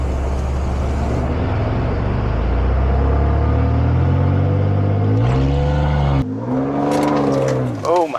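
A car engine revs hard while pulling a stuck vehicle free, a loud, sustained drone that swells and shifts in pitch, with voices talking over it.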